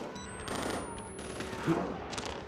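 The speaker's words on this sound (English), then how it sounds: "Who is shooting?" Gunfire in the horror game Outlast: Whistleblower, a rapid fusillade of shots heard at a middle distance within a dense, noisy in-game soundscape, with one sharper report standing out near the end.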